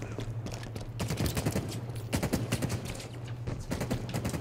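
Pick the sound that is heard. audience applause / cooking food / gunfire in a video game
gunfire in a video game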